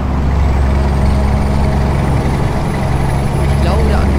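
A truck engine rumbles steadily and loudly with a continuous hiss of air brakes, a dense, unbroken vehicle drone throughout, in the video game Euro Truck Simulator 2.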